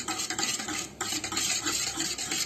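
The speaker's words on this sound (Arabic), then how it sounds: "نحركهم كتير منيح على البارد وبعدين بناخدهم على النار" Yogurt being stirred in a cooking pot while preparing shakriyeh (Aleppo-style armen), a steady scraping, swishing stir heard up close and continuously, with no talking.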